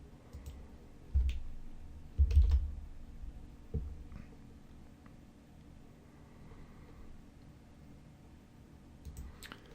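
A computer mouse gives a few sparse, soft clicks, quiet and close, with faint room noise between them and no voices.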